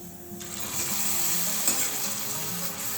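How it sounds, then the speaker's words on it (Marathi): Rice flour kurkure snacks deep-fry in hot oil, making a dense, steady bubbling sizzle up close that swells after a brief quieter start. "असेच आपण बाकीचे सुद्धा तळून घेऊ"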